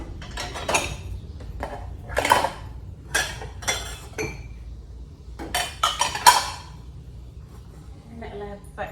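Ceramic plates and small saucers being handled in a home kitchen, with irregular clinks and clatters spaced throughout while a person talks over them.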